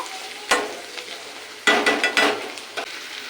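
Food sizzles and is stirred in a pan on a high flame while onions fry, with short bursts of spatula scraping over a soft, steady frying hiss.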